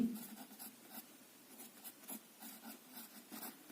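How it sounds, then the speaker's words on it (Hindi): Pen writing on paper during a Hindi exam-answer lesson, a steady run of soft scratchy strokes with short pauses between words, close and quiet, with no talking. "तो लिखेंगे द्रौपदी"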